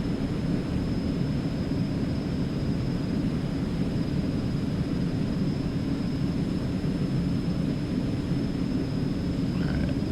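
An Eclipse 550 jet on its takeoff roll in X-Plane 11, a steady broad engine roar with a thin high whine that holds constant and loud throughout, with no voices.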